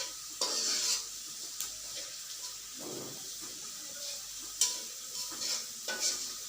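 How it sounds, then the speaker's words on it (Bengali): Garlic fries in oil in a pan with a soft, steady sizzle, broken by a few scraping stirs and clinks of a utensil against the pan, quiet and close. "রসুনগুলো তেলের মধ্যে ভালো করে ভেজে নেওয়া হচ্ছে"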